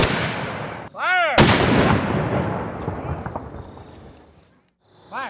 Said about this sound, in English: followed by a rifle and sometimes cannon salute